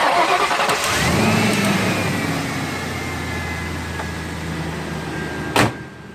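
A car engine with a blown head gasket cranks and catches, then settles into a steady idle hum; a brief sharp click near the end.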